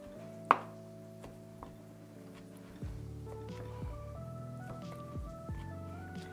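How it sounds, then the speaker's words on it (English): Cooked chorizo is broken into crumbles in a pan with a utensil, giving soft scraping and tapping sounds against a faint steady kitchen background, with one sharper knock early on. "cut this up into little pieces and little crumbles"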